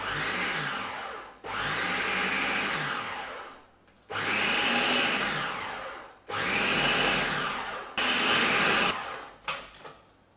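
A food processor pulses butter into scone dough, with four long loud whirring bursts separated by short pauses, then a few quick choppy pulses at the end, close and with no talking.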